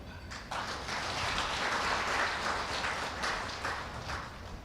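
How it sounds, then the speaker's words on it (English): An audience claps steadily through an honorary doctoral degree conferment ceremony in Lusaka, Zambia, a sustained, moderately loud burst of many hands that rises quickly and holds evenly, with no voices over it. "You deserve a clap."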